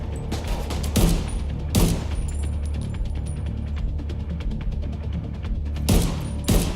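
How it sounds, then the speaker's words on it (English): Machine gun fire in The Division 2, sustained rapid bursts and a few sharp loud reports over a dense, rumbling battle background, with mechanical clicks woven through and no talk. "That guy's got like a machine gun right there"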